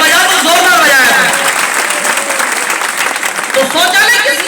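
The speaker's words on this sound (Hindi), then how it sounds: "तालियां बजा तो जोरदार बजाया" Loud audience applause at an all-India Hindi poetry gathering (kavi sammelan), a dense burst of clapping that blends with a speaking voice throughout the short stretch.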